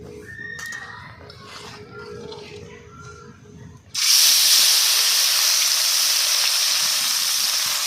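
Khalishe fish dropped into hot oil in a wok set off a sudden loud, steady hissing sizzle that takes over after quieter kitchen background sounds.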